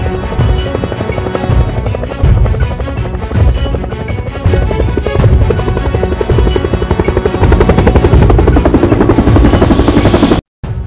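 Helicopter sound effect in a Lego SWAT stop-motion animation: loud, close, rapid rotor thumping that builds steadily and cuts out briefly near the end, no voices.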